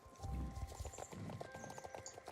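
Rhythmic horse hoofbeats from a video game clopping along at a steady trot, fairly close, with a soft patter and faint tonal hum in the background.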